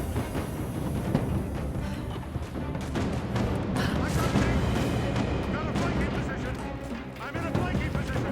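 Gunfire in the video game Rise of the Tomb Raider, a dense barrage of shots and impacts with booming hits running throughout, loud and continuous over the game's background noise, with voices mixed in.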